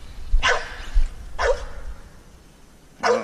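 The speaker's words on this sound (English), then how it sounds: "Oh, there's the dog." A dog barks three times outdoors near RC truck driving, sharp medium-distance barks spaced irregularly over a low rumbling background, with no talk.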